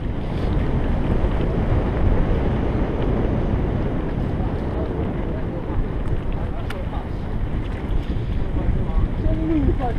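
Strong wind buffets the microphone outdoors in the pine woods at Porto Torres, a continuous low roaring rumble lasting throughout with faint scattered sounds on top.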